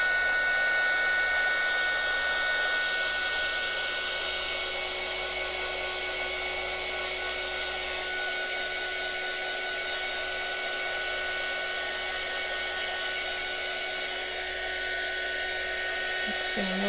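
A hair dryer blows continuously at close range over wet paint on an art journal page, a steady high whirring roar that stays even throughout.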